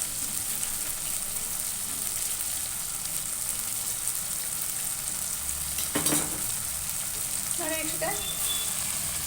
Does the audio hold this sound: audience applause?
no